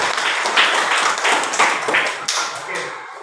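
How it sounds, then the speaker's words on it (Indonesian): Students in a classroom applaud one another after group work, a brisk burst of clapping with a few louder patterned claps, tapering toward the end with voices mixed in. "Tepuk tangan untuk semuanya ya"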